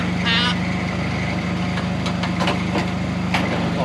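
A Honda 3813 ride-on mower engine runs steadily and close by, a continuous low rumbling drone with no breaks, joined by a few faint higher clicks and rattles.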